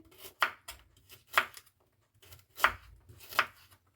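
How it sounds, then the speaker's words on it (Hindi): A knife chopping through a peeled radish for salad: four crisp, distinct cuts on a board spaced about a second apart, close and clear with quiet room noise between. "यहाँ पर ली है मैंने मूली का मैंने छिलका उतार लिया है, इसकी भी हम कटिंग करेंगे।"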